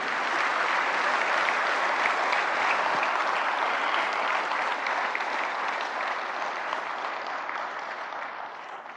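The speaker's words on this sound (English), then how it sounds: "The thunderous applause should not stop." Loud, sustained applause from a large crowd welcoming Prime Minister Narendra Modi at a public event, a dense unbroken roar of clapping running the full length and tapering only slightly at the end.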